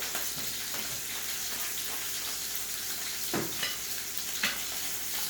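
Pork loin searing fat side down in a hot pan, giving a steady close sizzle throughout with a few sharper pops and spatters, no voices.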